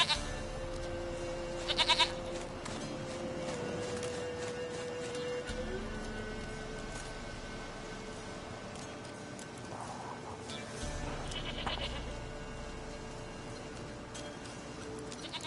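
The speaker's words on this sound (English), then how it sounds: "Goat of mine, dearest, sweetest goat." Goat in the game Witcher 3 giving a couple of short bleats, one near the start and another around the middle, over a quiet steady ambient background with faint tonal hums and no talking.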